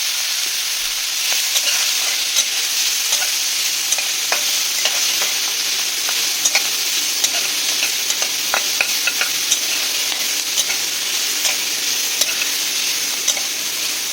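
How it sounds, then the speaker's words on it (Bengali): Shrimp lightly frying in hot oil in a wok: a loud, unbroken sizzle runs throughout, with scattered clicks and scrapes from stirring and no voices. "চিংড়ি মাছগুলোকে আমি হালকা করে একটু ভেজে নেব, বেশি ভাজবো না"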